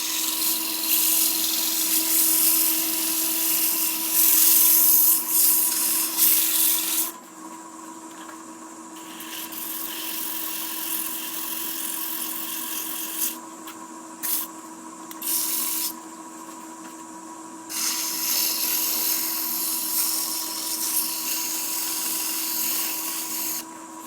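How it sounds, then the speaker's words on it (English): A green wood bowl is sanded on a Shopsmith Mark 7 lathe, a continuous machine hum with a rough hissing abrasion that drops away and returns in stretches as the sandpaper is lifted and pressed back on. "So I'm just going to continue to sand this to see what happens with it"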